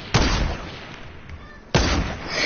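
Sniper rifle fire in a video game: two loud, sharp gunshots about a second and a half apart, each followed by a rumbling, decaying echo.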